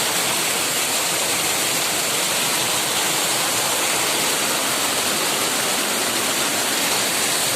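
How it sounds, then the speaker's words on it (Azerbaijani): Dilman waterfall in Agsu district pours in a steady, loud, dense roar of falling water heard close by, unbroken and without voices throughout. "Və nəhayət axır gəlib çatdım Dilman şəlaləsinə."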